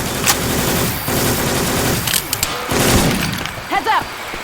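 Syphon Filter weapon sound effects swapped into Left 4 Dead 2, heard as loud bursts of gunfire with sharp cracks and a dense rattling fusillade, closing with a few short chirping tones.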